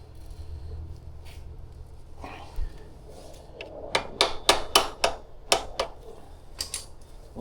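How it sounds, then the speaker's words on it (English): Diagonal cutters snapping through parts during a budget foot peg install on a Honda CRF125F dirt bike, a run of sharp crisp clicks close by, about eight snips in quick irregular succession after a quieter stretch. "snap them with some dikes"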